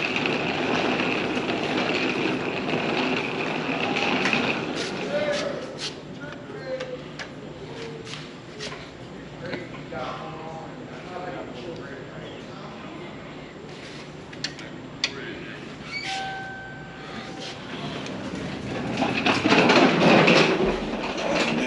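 A train at a New Jersey railway station rumbles and clatters steadily for a long stretch, with a couple of sustained tonal whines or chimes partway through, some faint voices, and a louder surge of rolling noise near the end.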